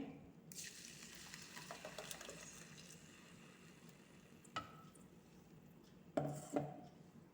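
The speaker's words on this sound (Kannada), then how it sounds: "ಎಣ್ಣೆ ಸ್ವಲ್ಪ ಬಿಸಿ ಆಗಲಿ. ಈ ಪೇಸ್ಟನ್ನು ಹಾಕ್ತೇನೆ ಇದಕ್ಕೆ." Curry leaf and coriander paste frying and being stirred in about four spoons of hot oil, giving a steady close sizzle with soft scraping, a brief clink near the middle and louder spatters toward the end.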